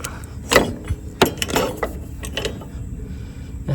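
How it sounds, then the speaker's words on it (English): Lawn mower drive belt being pulled over a pulley assembly, giving close, fairly loud rattling mechanical clunks and scrapes of belt on pulleys in a few uneven bursts. "we should be able to pull that drive belt just right over that assembly."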